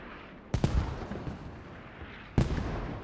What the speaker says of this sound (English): Mortars coming in